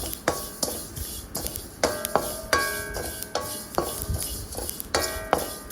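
Sesame seeds dry-roasting in a pan for a flaxseed spice powder, heard as repeated sharp metallic scrapes and ringing taps of a spoon on the pan, with faint crackle between the strokes.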